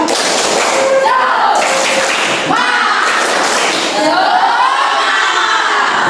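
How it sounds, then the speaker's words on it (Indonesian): Seventh-grade students in a classroom repeat a spirit clap chant, bursts of synchronized clapping and slaps in a quick rhythm alongside loud group voices, near and lively. "Lagi tepuk semangat."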